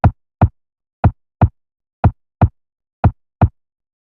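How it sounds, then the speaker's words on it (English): A heartbeat made from a sampled chest beat, four close thumping lub-dub pairs at an even pace, loud with silence between. "To produce the heartbeat sound, I sampled my chest beat."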